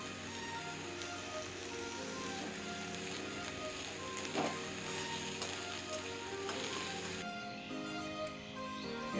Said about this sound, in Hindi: प्याज भाजी हे आसलानी, प्याज को पूरा लाल करिवेनी